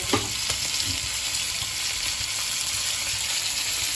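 Four pieces of bangada (mackerel) fish frying in hot oil, a dense continuous sizzle with a few faint clicks near the start, steady and close, no voices.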